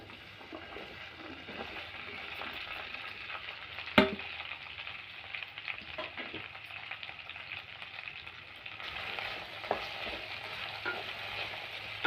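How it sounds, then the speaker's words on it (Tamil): Okra frying in oil in a kadai for a tamarind curry, with a steady broadband sizzle throughout, a sharp clatter of stirring near the start and occasional small pops, close and continuous. "இப்போ வெண்டைக்காயை போட்டுக்கலாம்."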